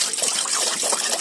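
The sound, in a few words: pouring water into a pot of sweet potato leaves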